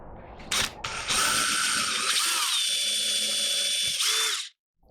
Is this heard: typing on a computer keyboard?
no